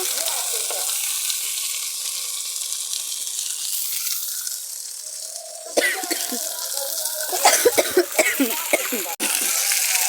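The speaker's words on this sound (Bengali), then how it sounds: "আবার কিছু মাছ কড়াতে দিয়েছি ভাজবে ভাজা হচ্ছে" Fish frying in oil in a kadai, a constant hissing sizzle that grows busier midway with crackling spatters and bursts, close and fairly loud.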